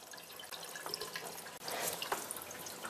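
A running toilet tank keeps refilling with water, producing a steady hiss and trickle, close and continuous, with a small bump and a slightly louder surge partway through and no voices.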